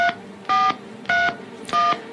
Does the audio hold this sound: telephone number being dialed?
yes